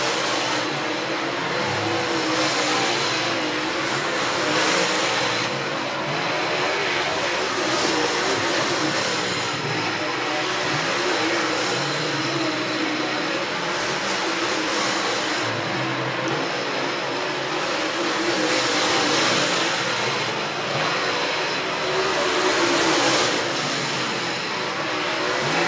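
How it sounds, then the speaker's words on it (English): Several modified lightweight race cars rumble and rev in a dirt speedway staging area, a dense, continuous engine drone with swelling revs and no talk. "Mod Lights getting tuned up in the staging area to come out for their hot lap session next"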